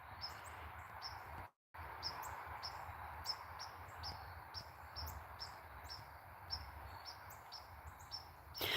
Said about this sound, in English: There's lots of bird sounds back here, Kai.